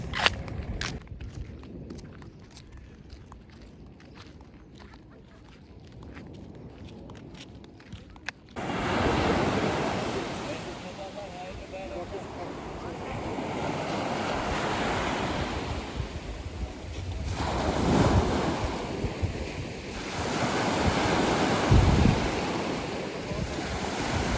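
Sea waves wash onto the shore at Taşucu, Turkey, a steady loud roar of surf with swells breaking close by, mixed with wind buffeting the microphone after a quieter opening stretch.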